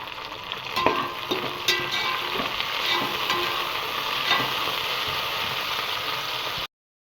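Onions and mint frying in a pan for chicken biryani, with a steady broadband sizzle and scattered scraping clicks of a spoon stirring through, close and fairly loud with no talk, ending abruptly.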